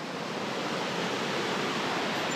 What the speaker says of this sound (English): Now we think we're nearing the end of the actual waterfalls